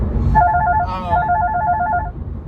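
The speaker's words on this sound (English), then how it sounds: "my phone's ringing" A mobile phone rings loudly and close by, a warbling electronic ringtone of rapid pulsed tones lasting under two seconds over a low background rumble.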